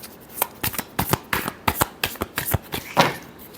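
Tarot cards riffled and shuffled in quick bursts, about a dozen crisp flutters in an uneven rhythm, close and fairly quiet with no voice over them.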